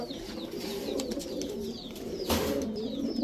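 Pakistani teddy racer pigeons, a paired racing couple, coo in a soft repeated rolling rhythm close by, with faint higher chirps scattered over a steady low hum.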